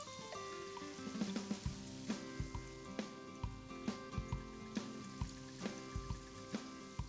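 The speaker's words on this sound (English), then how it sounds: "we're gonna flip these over and let them fry on the other side now for a couple of minutes" Hanukkah donuts fry in hot oil with a steady sizzle, punctuated by regular soft taps and thumps at close range over a faint tonal background.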